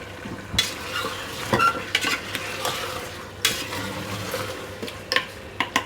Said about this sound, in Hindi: अब इसको अच्छी तरह भून लेंगे हड्डियों को